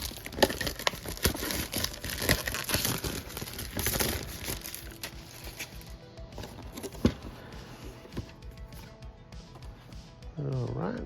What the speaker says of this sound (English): open her up. Get this plastic out of the way here.